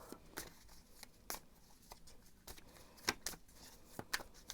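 Crisp riffling bursts of a deck of cards being shuffled, several quick ruffles spaced irregularly, close by and fairly quiet.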